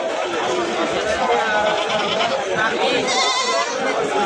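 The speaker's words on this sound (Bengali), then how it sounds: "ছাগল" A goat bleats at a busy livestock market, its calls mixed into a constant, dense wash of crowd chatter and voices close by.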